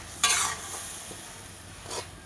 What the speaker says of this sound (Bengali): টমেটোর পেস্ট করে রেখেছিলাম সেটাও এর ভিতরে দিয়ে দিচ্ছি। দিয়ে সবগুলো উপকরণ একসঙ্গে কষতে হবে।